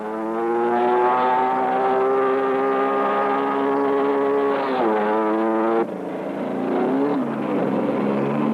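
Suzuki vehicles run on a factory test stand, giving a loud, steady engine drone with strong harmonics that shift in pitch near the end as speed changes.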